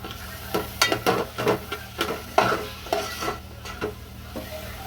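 Finely chopped capsicum sautéed in oil and stirred with a spoon, repeated scraping strokes and clinks over a continuous sizzle, close and fairly loud.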